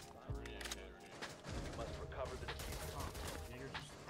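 Bursts of gunfire in the tactical shooter game Rainbow Six Siege, with quick overlapping shots over a dense, steady layer of in-game noise.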